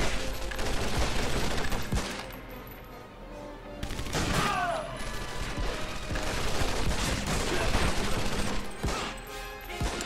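Rapid submachine-gun fire from an MP40 in the shooter game Medal of Honor: Vanguard, with dense, continuous bursts of gunshots throughout, broken by a brief lull and mechanical clatter.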